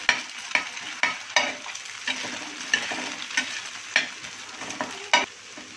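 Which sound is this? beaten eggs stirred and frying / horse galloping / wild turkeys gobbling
beaten eggs stirred and frying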